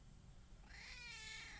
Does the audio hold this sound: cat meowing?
yes